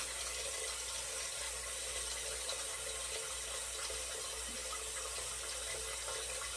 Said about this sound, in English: rinsing off.